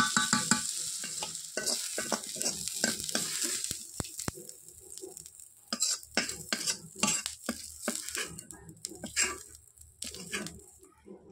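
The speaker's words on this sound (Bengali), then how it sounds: "এখন দেখো আমি অল্প একটু তেল দিয়ে পেঁয়াজ আর টমেটোটাকে ভেজে নিচ্ছি।" Onions and tomatoes frying in a little oil in a pan, bursts of sizzling and crackling broken by repeated stirring scrapes and utensil knocks, close and moderately loud.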